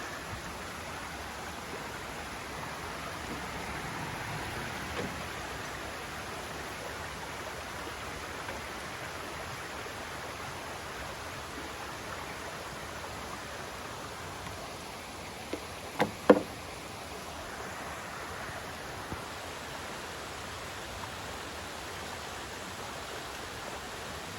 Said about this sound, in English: I'm just walking along the creek right now